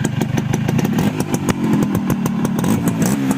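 A 41-year-old vintage motorcycle engine fitted with an L2 exhaust pipe runs steadily and loudly nearby, with a rapid popping two-stroke-like beat. The engine has sat unstarted for three months.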